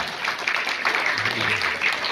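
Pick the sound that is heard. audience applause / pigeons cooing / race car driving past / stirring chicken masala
audience applause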